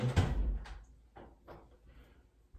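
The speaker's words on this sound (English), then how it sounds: "Let me open the door again." A room door is opened with a sharp clunk of the latch at the start, followed by a few softer scraping and knocking sounds, close by and without talking.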